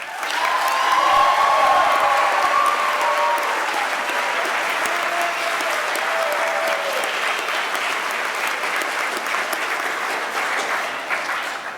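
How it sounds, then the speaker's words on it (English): At the NCSSM 2019 awards ceremony, a large audience gives sustained applause to award-winning M3 Challenge high school math modeling teams as they rise, loud and dense at first and then holding steady, with faint cheering mixed in. "Team members, please rise to receive our applause."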